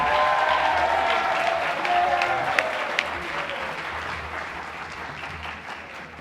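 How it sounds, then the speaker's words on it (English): Audience applause at a school rhythm and music program, a full round of clapping that stays steady and dense, then gradually thins and softens toward the end. "let's give Billy one more round of applause"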